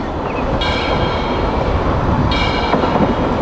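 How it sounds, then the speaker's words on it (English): Train sound effect with a steady loud rumble of rolling railcars, wheels clacking along the rails, and two high squealing tones cutting in, one early and one late, without any voice. "T for train."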